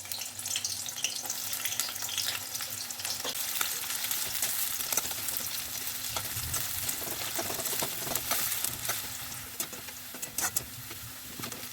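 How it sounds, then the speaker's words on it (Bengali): Chopped onion frying in hot oil in a wok, a continuous crackling sizzle with scattered sharp pops and occasional stirring scrapes, close and steady throughout, with no talking. "পেঁয়াজটা আমি ভেজে নেব।"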